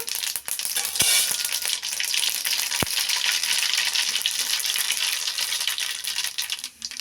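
A spoonful of mustard seeds sizzles in hot oil, a loud, dense, steady frying hiss with a few sharp pops and clicks of seeds and utensil, close and without talk.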